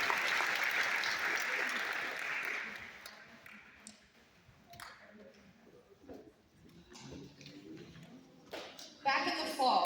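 Audience round of applause for student leaders, officers and team captains at a school ceremony, full clapping at first that fades away, followed by scattered claps, shuffling and murmuring voices.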